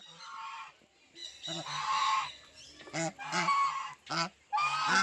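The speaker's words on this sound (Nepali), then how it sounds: "यहाँ चाहिँ फेरि राजा हाँस रहेछ" A swan honks loudly and repeatedly at close range, a series of harsh, nasal calls in uneven bursts separated by short gaps.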